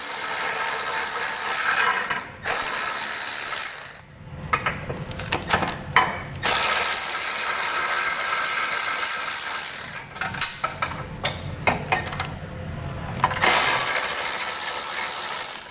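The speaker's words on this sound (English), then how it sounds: "Take these 13mm bolts off." A ratchet clicks loudly and rapidly in bursts, backing out 13mm bolts on a 2022 Chevrolet while a base plate kit is installed, with brief pauses between runs of steady mechanical ratcheting.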